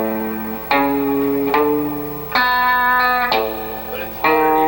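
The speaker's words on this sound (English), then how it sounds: "you just flip a little switch and it cuts it down to half speed" Guitar solo recording played back at half speed, an octave down, with clear harmonic notes and slides in several phrases, each attack ringing out with reverb; no talking.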